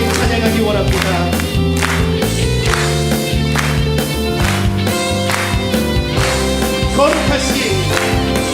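A church congregation at a Korean Sunday morning worship service claps along in a regular beat while singing a hymn, the clapping blended into loud, full band accompaniment from start to finish.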